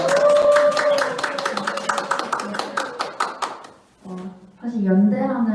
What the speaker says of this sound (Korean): 작가님과 대표님께 다시 한번 큰 박수 부탁드리겠습니다.